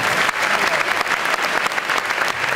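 A theatre audience at a music award evening applauds a performer, with dense, steady clapping filling the hall throughout, loud and continuous with no voices.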